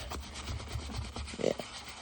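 A brush scrubs a restored leather infield baseball glove from the 1960s, giving soft repeated rubbing strokes, close and fairly quiet, with a brief harder scratch near the end.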